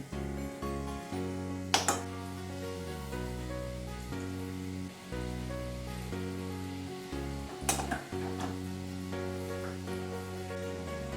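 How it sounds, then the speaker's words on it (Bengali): Fritters (bora) sizzle steadily in hot oil in a pan while a light summer curry is being made. Two brief louder clatters come as pieces are turned over. "বড়াগুলো একদম ফুলুরি যেরকম ভাজে সেই ফুলুরির মতো ভাজা হয়ে গেছে"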